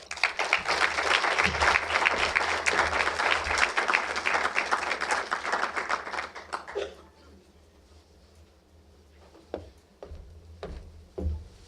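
A luncheon crowd at the 2018 "Back on Track" event gives a full round of applause welcoming speaker Rashawn. It is loud and steady for about seven seconds, then stops abruptly, leaving a quiet room with a few soft knocks.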